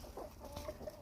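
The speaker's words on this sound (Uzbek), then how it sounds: "Mana xo'rozlar yirik" Large roosters cluck faintly in a brief, quiet moment at a poultry yard, a low-level fowl murmur with no speech.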